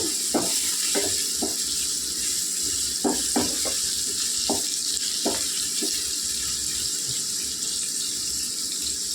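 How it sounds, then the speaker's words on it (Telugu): Onions frying in a pan for gongura chicken, a continuous loud hissing sizzle with scattered soft knocks and stirring sounds, close, with no talking. "చూడండి ఉల్లిపాయలు ఎలా వేగాలండి."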